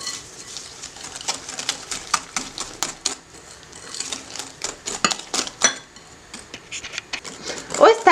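Biscotti dough with orange zest is mixed in a bowl, giving quick uneven tapping and clinking of a utensil against the bowl, close and fairly quiet, in irregular bursts without speech.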